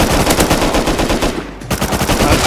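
Rapid automatic gunfire in the survival game Rust, loud and close with dense bursts of shots and a brief pause before the firing resumes.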